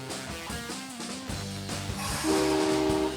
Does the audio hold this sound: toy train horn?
yes